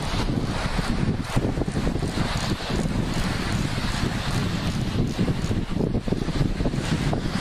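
Strong wind buffets the microphone in a constant, rough roar, with no other sounds standing out.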